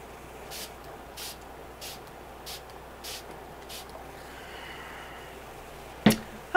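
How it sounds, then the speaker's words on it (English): MAC Fix Plus setting spray is misted onto a face in six quick, evenly spaced spritzes, soft and close against a quiet room. "I'm going to go ahead and spray my face"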